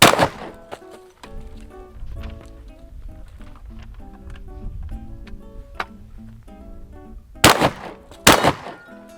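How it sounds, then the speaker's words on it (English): Wards & Co. side by side 16 gauge shotgun firing two loud, sharp blasts close together near the end, after a stretch of quieter clicking and handling sounds with faint background music. "Let's shoot a few more rounds"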